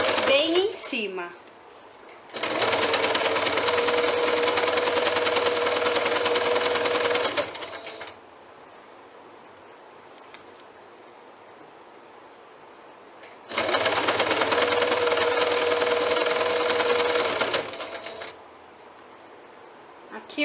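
A sewing machine runs over the strap seam of a bag, topstitching in two long, loud bursts of about five seconds each. Quiet gaps fall between them, and someone speaks in the background.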